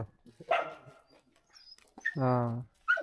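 A dog in wintry Ladakh whimpers and yelps close by in a few short bursts, with one long high whine.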